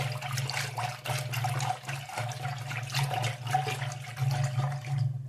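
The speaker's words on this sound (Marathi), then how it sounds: "आता ह्यात मी थंड पाणी ओतले" Cold water pouring into spiced buttermilk in a kitchen, a steady continuous splashing and gurgling stream that runs close and fairly loud for several seconds with no talk.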